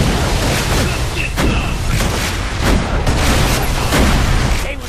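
A grenade explosion in the video game Borderlands: The Pre-Sequel, loud rumbling blasts and crackling bursts rolling over one another, with a voice speaking briefly under the din.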